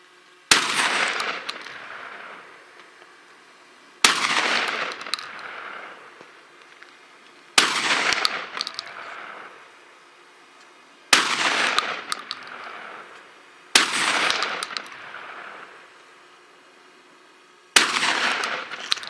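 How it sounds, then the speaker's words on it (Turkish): Six loud single slug shots from a D-DOXCARMS DCX-26 shotgun fired outdoors, a few seconds apart, each a sharp blast with a long rolling echo fading before the next; no speech. "domuz olduğunu düşünerek atış yapacağız"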